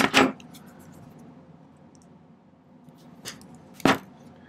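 12 gauge square silver wire is cut to length with a cutter: a crisp snip at the start, then two more sharp metallic clicks about half a second apart near the end, close and clear in a quiet workshop.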